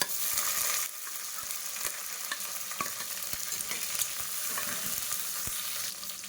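Onions, ginger, garlic and green chillies fry in hot oil with spices for mutton biryani, giving a close, steady crackling sizzle with occasional scrapes of stirring and no talking.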